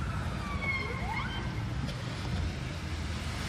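A police siren wails faintly in the distance, rising and falling over a steady low rumble of city street traffic in Kyiv.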